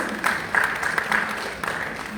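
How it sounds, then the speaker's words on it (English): A crowd applauds steadily for an awardee at a Mariammen temple annual prayer event in Mount Edgecombe, with clapping rising in bursts and a voice or two faintly under it. "Huge round of applause for him, please."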